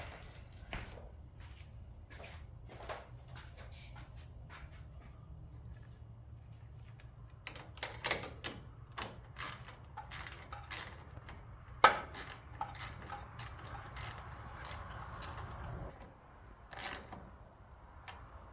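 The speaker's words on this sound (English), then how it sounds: "socket and ratchet." Socket and ratchet turning bolts while installing an engine in a Lincoln SA250 welder: a quiet background hum first, then a run of sharp, close metallic clicks and ticks from about seven seconds onward, with no talking.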